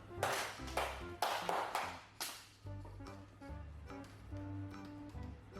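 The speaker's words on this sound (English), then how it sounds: "Clap for yourself." A burst of clapping from several children, rising and fading in quick waves, followed by a low, sustained tonal hum.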